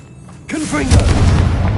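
A heavy Confringo blasting-spell explosion from the Hogwarts Legacy video game bursts in with a deep boom after a brief quiet lead-in, followed by rumbling debris and a ringing tail.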